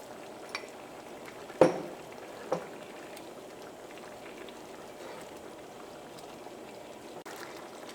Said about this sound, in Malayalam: ഈ കറി നന്നായിട്ട് തിളച്ചിട്ടുണ്ട്.